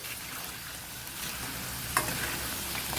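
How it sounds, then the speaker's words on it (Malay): Rice crackers (keropok nasi) made from leftover rice frying in hot oil, a steady close sizzle and crackle throughout with a brief louder pop near the middle, no talking. "Kita goreng lagi"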